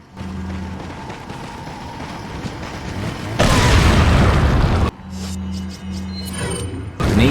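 A grenade detonates in Resident Evil 4, a loud sustained boom and roar of blast noise in the middle of the clip, then a second sharp burst near the end, over steady game ambience.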